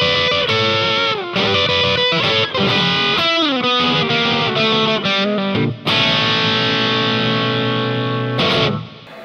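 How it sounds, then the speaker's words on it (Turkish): An electric guitar plays through a Joyo DC-15S rechargeable amp with reverb, giving loud, sustained, distorted notes and sliding phrases with a lingering reverb tail, and no talking. "Delay yerine de reverb vereyim."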